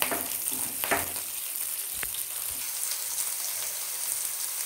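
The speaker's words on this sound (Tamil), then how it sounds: "வெட்டி வச்சிருக்க வெங்காயத்தையும் மிளகாயையும் இதல நல்லா வதக்கிக்கிடணும்" Chopped onion and green chilli sautéing in a pan after mustard seeds pop, a soft continuous sizzle with a few stirring scrapes early on and one sharp clink, fairly quiet and close.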